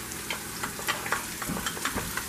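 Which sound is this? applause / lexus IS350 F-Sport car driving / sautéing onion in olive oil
sautéing onion in olive oil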